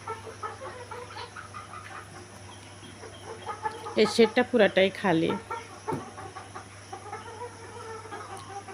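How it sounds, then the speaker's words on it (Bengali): Large roosters and hens cluck in a burst in the middle, close by in a farm shed, as a person talks over a steady low hum. "দেখতেই পারছেন অনেক বড় বড় মোরগ"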